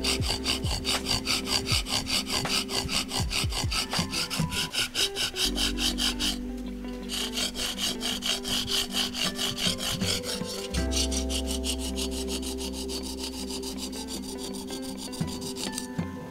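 Knife blade being sharpened, drawn repeatedly along an abrasive surface in steady rasping strokes, loud and close, with a few brief pauses between passes and no talking.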